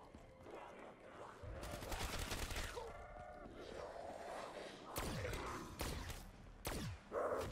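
Bursts of rapid weapon fire in a video game, loud and close, come in several clustered volleys between stretches of rumbling game noise and tonal effects.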